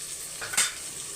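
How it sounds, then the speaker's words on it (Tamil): Onions sautéing with salt in a pan for a festive Tamil dish, a soft steady sizzle with a brief stirring scrape near the middle, close and fairly quiet. "இப்போ வெங்காயம் வதங்கட்டும்"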